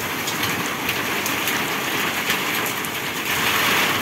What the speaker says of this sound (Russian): Град идет.